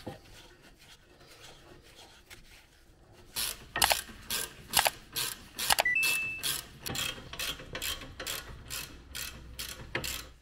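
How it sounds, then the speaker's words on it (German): Bolts being screwed into the front brake caliper carrier of an Audi S5 8T Sportback with a ratchet: quiet handling at first, then a series of sharp ratcheting clicks in short bursts, close up. "dann werden die Schrauben da eingedreht."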